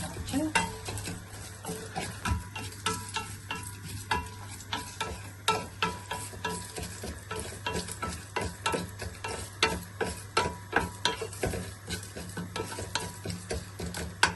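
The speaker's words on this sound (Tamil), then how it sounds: "அந்த நேரம் நான் இஞ்சால ஒரு வெந்துக்கு தேவையான மசாலாவை ப்ரிப்பேர் பண்ணுறோம். லைட்டாக ரோஸ்ட் பண்ணுறேன்." Spices dry-roasting lightly in a pan for a Sri Lankan lamb and potato masala, a soft scratchy rhythm of regular stirring strokes over a faint hiss with light metallic scrapes.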